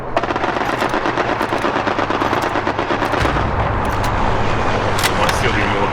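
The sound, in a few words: machine gun fire in the video game Hell Let Loose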